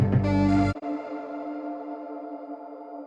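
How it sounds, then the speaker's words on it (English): A music track ends with a full, dense chord that cuts off sharply, leaving a long, smooth reverb tail ringing on and slowly fading for a couple of seconds, with no talking. "A proper reverb tail ending."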